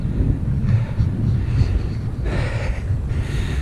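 Wind rushes across a rural country road, a steady low rumbling buffet against the microphone with brief gusts swelling and easing throughout.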